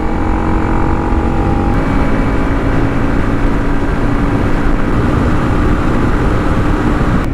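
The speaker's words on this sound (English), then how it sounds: "It's a little bit too loud for my taste, this Black Widow exhaust." A Honda CRF300L motorcycle fitted with a Black Widow exhaust rides at a steady pace, its loud, raspy engine drone holding constant with a slight pitch shift early on, wind rushing over it.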